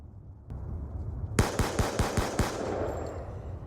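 Six sharp gunshots ring out in a video game, fired in quick, fairly even succession over about a second, each a loud crack with a short decay, over a low background hum.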